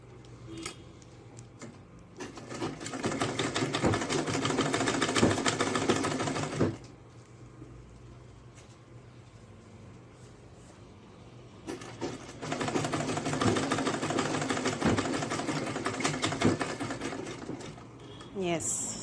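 An electric sewing machine runs a stitch along folded Ankara fabric while a purse is being made. It sounds in two long, steady whirring bursts that stop and start again, with quiet pauses between them.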